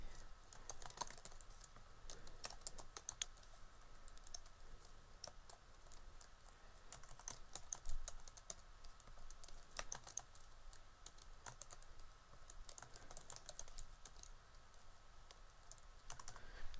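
Names being typed into an Excel sheet on a computer keyboard, with steady, fast, close key clicks continuing for the whole stretch and no talking.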